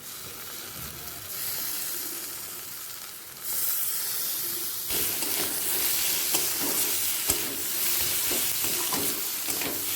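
Spiced masala with chopped tomato for ghugni frying over a flame and being stirred, a steady close sizzle broken by scraping strokes that grow busier partway through.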